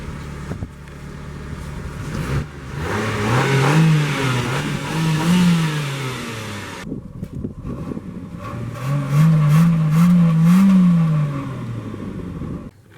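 A 2002 Ford Focus ZX5 hatchback engine is revved twice, each time climbing smoothly to a held peak and dropping back to idle, with exhaust rumble and loud, close engine tone between quieter idling stretches.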